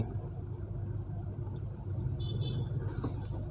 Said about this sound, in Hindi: अब आपकी गाड़ी बैक में चलेगी रिवर्स में